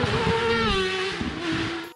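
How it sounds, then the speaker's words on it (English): A V4 motorcycle engine with a throaty performance exhaust growls steadily and loudly up close, holding a deep, even note for about two seconds before cutting off abruptly. "the exhaust note is a throaty performance exhaust that sounds like a tiger growling"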